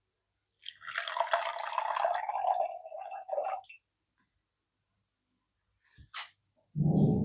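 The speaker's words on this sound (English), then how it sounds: "Now we will be adding the water and stirring." Water poured into ammonium chloride and stirred in a chemistry experiment, a hissing splash followed by a few short clinks and a low swirling burst at the end, close and fairly loud with no talking.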